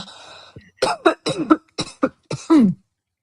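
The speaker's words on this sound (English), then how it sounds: "There's a couple people coughing." A rapid run of about seven dry coughs, close and loud, coming in quick succession before stopping.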